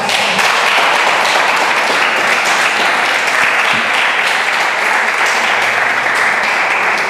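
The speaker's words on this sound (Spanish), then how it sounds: "¿Te podemos alabar con palmas?" A church congregation applauds loudly and steadily, a dense, continuous roar of many hands clapping together that fills the space without a break.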